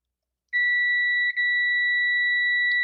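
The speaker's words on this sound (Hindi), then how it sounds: "अब एक सेकेंड में इसको बजर मोड में रख लेता हूँ" Steady electronic beep from a multimeter in buzzer mode while an IC on a DTH free-dish SMPS board is tested; one continuous tone with a brief dip partway, loud and close.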